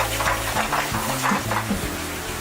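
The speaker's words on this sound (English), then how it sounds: "Now we're going to heat up our hummus." Hummus made from chickpeas, roasted garlic, lemon juice and cumin warms in a pan, with steady close stirring scrapes and a soft continuous sizzle over a low, uneven hum.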